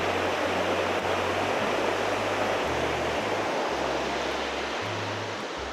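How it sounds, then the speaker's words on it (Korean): Steady rushing water of a mountain valley stream flows continuously, a loud broadband roar with a low hum underneath. "아, 물소리 죽여줍니다."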